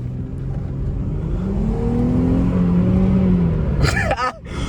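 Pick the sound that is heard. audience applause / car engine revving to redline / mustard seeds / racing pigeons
car engine revving to redline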